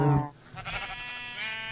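A Minecraft sheep bleats in a Direwolf20 1.12 modpack survival game. A short low note is followed by a wavering, nasal bleat that is close and clear, with no talk over it.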